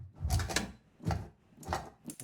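Drum sample made from a freezer lid: four dull, thumping knocks with a rattly mechanical edge, evenly spaced about half a second apart, close and moderately quiet with no voices.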